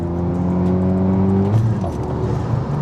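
A Renault Megane F1 engine revs and builds, then shifts pitch as the car launches hard with traction control off, a loud continuous roar with mechanical whir.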